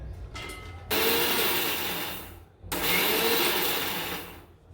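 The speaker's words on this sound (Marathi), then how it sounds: "आता हे आपण मिक्सरला क्रश करून घेऊयात" A mixer grinder crushing green chillies and spices whirs loudly in two bursts separated by a brief pause, a close, steady high-pitched roar while grinding.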